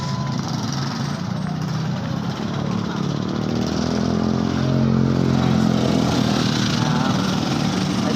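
A motorcycle engine idles and rumbles steadily nearby, a continuous low drone with no break.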